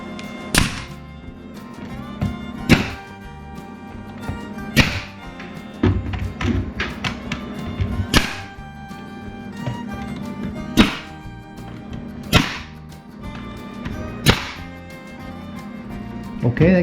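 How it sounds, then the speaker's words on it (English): Pneumatic nail gun driving nails through crown molding into a kitchen cabinet, a series of about ten sharp, loud thunks spaced irregularly one to two seconds apart over a steady background hum. "let's go ahead and get our nail gun and nail this in place at this time"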